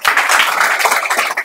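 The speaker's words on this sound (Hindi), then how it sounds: "चलो एक बार ताली बजाइए आपको।" Audience applause fills a physics coaching class in Chandmari, Motihari, as a room of students claps together, a dense, steady, fairly loud patter of many hands lasting the whole moment with no talk over it.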